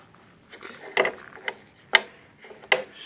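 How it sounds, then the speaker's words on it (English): Hex bolts being fitted and tightened back into an oil boiler's cover, giving a few separate metallic clicks and ratcheting taps, fairly close and moderately loud, spaced about a second apart with quiet between. "reassemble by putting all 4 of your hex bolts back in place"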